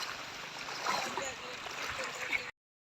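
Rushing floodwater surges steadily during a flood in Pakistan, a dense continuous wash of churning water with splashes, close and fairly loud, with a voice faintly present beneath it.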